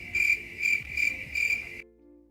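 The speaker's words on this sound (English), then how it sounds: "It's just all cricket noises." Crickets chirp in four regular pulsing bursts, loud and close, then stop abruptly into near silence.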